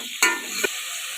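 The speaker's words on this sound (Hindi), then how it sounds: "तो हम इसको बेस्ट से फ्राई कर लेंगे।" Tomatoes and green chilies frying in masala for daal: a steady sizzle broken by two quick stirs of the pan, close and loud with no talking.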